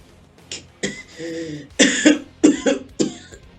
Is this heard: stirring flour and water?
no